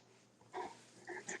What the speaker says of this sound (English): I have a crazy dog.